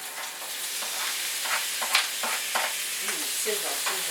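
Tomatoes go into browned onions frying in a pot for a pot roast stir fry, and a bright, steady sizzle follows with intermittent soft scraping bursts from stirring, close and fairly loud.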